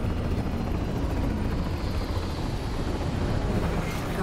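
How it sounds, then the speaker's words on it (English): US combat helicopters fly in over a city in the video game Cyberpunk 2077, a dense, steady rotor roar with broadband thrumming, loud and continuous throughout with no talk. "Then US combat choppers buzz in the free city of NC."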